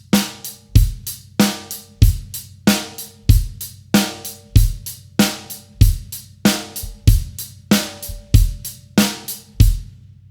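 A steady, straight rock drum groove with evenly spaced kick and snare hits and a rigid hi-hat pattern, loud and close, with no ghost notes in between.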